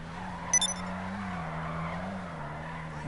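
A car in GTA Online power slides with its tires skidding, a steady engine drone with a short squeal near the start, heard alone at moderate loudness.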